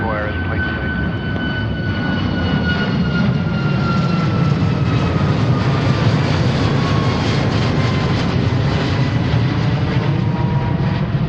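United 737-900 jet airliner on its takeoff roll from runway 34 right at Seattle-Tacoma airport, a loud, sustained engine roar with a steady broadband rumble and a whining tone that slowly falls in pitch, heard alone without talk.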